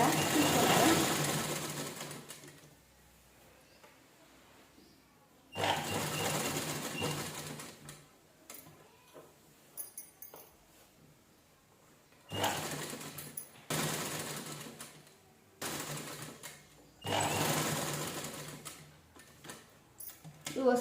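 A domestic sewing machine stitches canvas into the square back neckline of an unlined blouse in several loud whirring bursts of rapid needle ticking, separated by quieter pauses with some talk.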